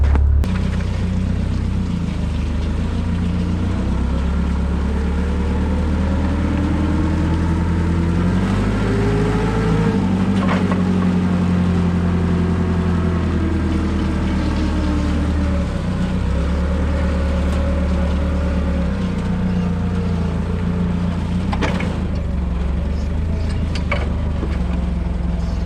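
A pulling truck with rear steer pushes a trailer, its loud engine droning steadily throughout with shifting revs and rising and falling tones, close by and continuous with no talk.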